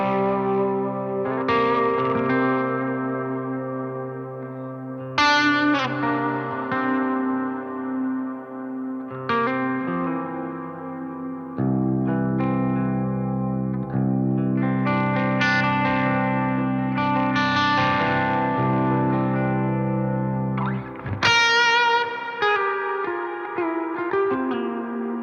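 Ambient electric guitar played through reverb and delay effects: slow, sustained chords and single notes ring out with long, washing echo tails that blend into one another over the whole stretch, with no talking.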